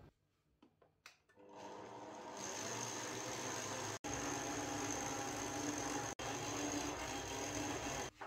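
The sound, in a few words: food processor mixing Liège waffle dough at speed 3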